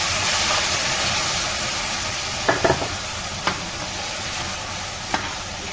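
Onion paste fries in a pan with a dense, steady sizzle up close, with a few sharp clicks and scrapes from stirring.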